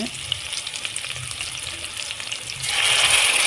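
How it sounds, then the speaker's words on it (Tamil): Onions sautéing in a pan with asafoetida powder added, a steady close sizzle with light stirring scrapes that swells louder and brighter toward the end, with no talking. "வெங்காயம் நல்லா பெரியற அளவுக்கு வதங்க விட்டுருங்க"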